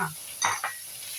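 Dried scallops stir-fried in a pan, with a soft sizzle underneath and a couple of brief scraping stirs from a utensil, close and short.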